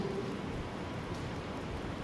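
Monsoon rain falling over the sea, a dense steady patter and hiss at moderate level with no voices, lasting about two seconds.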